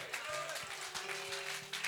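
A church congregation clapping, a short burst of scattered applause with voices and crowd murmur mixed in.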